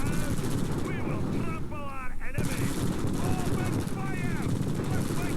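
Rapid, continuous weapons fire from units in a real-time strategy battle, including Boris and Desolator units, heard as a dense, loud stream of shots with whooshing effects under speech.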